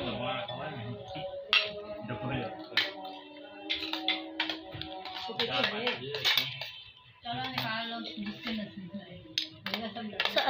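A spoon clinks lightly against dishes at an iftar meal during Ramadan, with short, scattered metallic taps under steady talking.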